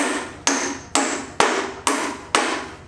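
A hammer strikes in an even rhythm, six sharp ringing blows about half a second apart. Each hit trails off in a short decay, and no one speaks.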